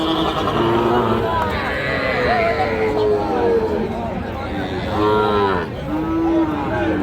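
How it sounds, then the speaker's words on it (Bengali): Cattle and calves at a rural livestock market low and moo loudly in several overlapping calls close by, amid a steady crowd murmur. "এই পাশে দেখেন যে যার মতো গরু নিয়ে দাঁড়ায় আছে কিন্তু"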